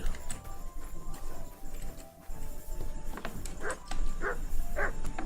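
A dog barks three times in quick succession in Kingdom Come: Deliverance II, the barks fairly close and clear over a steady game ambience of hooves and background noise.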